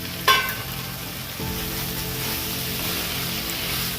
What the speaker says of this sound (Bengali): এবার মশলাটা ভাজা হয়ে গেছে, এবার আলুটা দিয়ে একটু